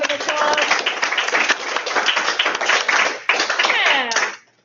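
A lecture audience in a chemistry class breaks into applause, a loud dense patter of many hands clapping close by for several seconds before stopping abruptly, with voices mixed in.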